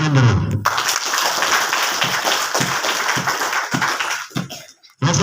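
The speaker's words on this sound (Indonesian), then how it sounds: "Tepuk tangan dulu." A crowd at a gathering in Ilugwa, Jayawijaya, claps and cheers together in a dense, sustained burst lasting several seconds. Voices shout over the applause, and the sound drops off sharply near the end.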